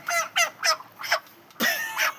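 Chickens giving a run of six sharp, loud clucking squawks close by, each call separated by short gaps, with the last one longer and drawn out.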